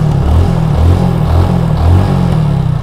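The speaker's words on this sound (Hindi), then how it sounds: "तो हो चुकी है गाड़ी स्टार्ट, आप आवाज़ सुन सकते होंगे" A motorcycle engine idles close by after being started without a key, a loud, steady low chugging with a regular pulsing rhythm and no talking.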